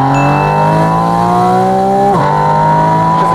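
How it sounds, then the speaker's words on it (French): A Porsche Spyder RS with a GT3 engine revs loud and close, its pitch climbing steadily with a quick shift dip before rising again, a continuous howl with no talk. "t'as vraiment le moteur qui te chante dans l'oreille là"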